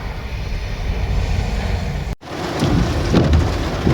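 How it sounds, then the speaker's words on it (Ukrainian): Steady rain hisses throughout in Odesa, a dense wash of patter, broken by a brief dropout midway before resuming with some closer drips and splashes. "Такий дощик."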